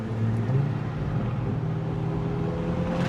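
A hybrid Ferrari's engine roars steadily as the car accelerates through a tunnel, a loud, continuous drone with reverberant low rumble and a rising tone, no voices present.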